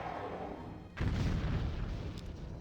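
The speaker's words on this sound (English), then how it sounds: "Fired some missiles." Missiles fired in a Master of Orion 2 space battle, a deep booming launch sound that erupts suddenly and rumbles on to the end, heard alone.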